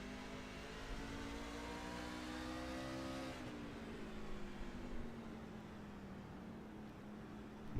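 A race car engine in a racing video game holds a steady high revving drone, then the pitch drops as the throttle comes off for a turn and picks up again at a lower level. There is no talk.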